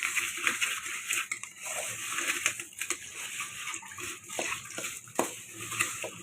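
Spoon scraping and stirring sugar into roasted semolina halwa in a pan, a steady run of soft gritty scrapes with faint clinks and no talking.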